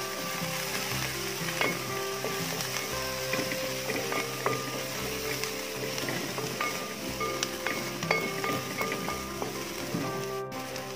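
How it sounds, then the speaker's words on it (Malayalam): Garlic and ginger sautéing in a pan for Kerala-style beef roast, a steady close sizzle and crackle throughout with occasional stirring scrapes, no talk. "2 ടീസ്പൂൺ വെളുത്തുള്ളി ഇട്ട് കൊടുക്കാം. ഇനി അതെല്ലാം കൂടെ നന്നായിട്ടൊന്ന് മൂപ്പിച്ചെടുക്കാം."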